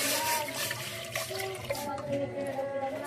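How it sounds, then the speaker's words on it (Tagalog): Water pours steadily into a cooking pot for corn soup with tofu, a continuous splashing rush heard close up, with a little faint speech in the background. "So, lagyan na natin siya ng tubig."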